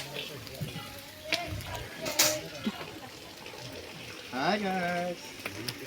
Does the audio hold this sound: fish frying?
yes